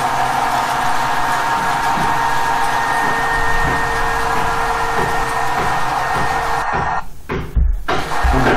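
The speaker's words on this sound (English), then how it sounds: "You can run two generator very well using single electric motor," A single electric motor drives two generators, 20 kW and 10 kW, in a loud steady mechanical hum with a constant whine, ending in a few knocks and clatters.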